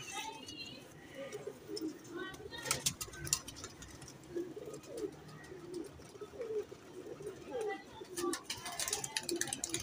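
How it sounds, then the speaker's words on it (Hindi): High-flying pigeons cooing softly in low, repeated coos, faint and close, mixed with rustling, flapping clatter and someone talking over them. "ये हाई फ्लाइंग कबूतर हैं दोस्तों"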